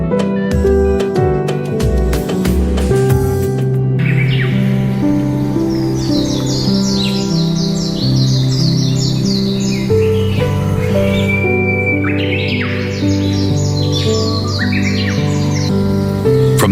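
Small birds chirp and twitter in quick, repeated bursts over a bed of soft instrumental music, the calls bright and close across most of the stretch.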